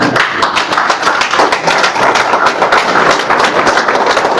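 An audience stands and claps loudly for a couple at a business event in India, a dense, steady wash of hand claps running the whole time at close range with no voices over it.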